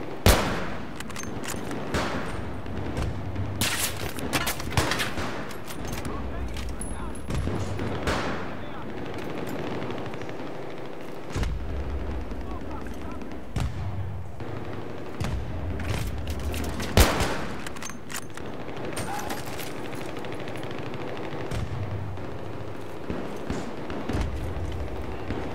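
PKP machine gun fire in Battlefield 3 multiplayer, with long sustained bursts and scattered shots and booms that run nearly unbroken throughout, loud and close, with someone talking over the gunfire at times.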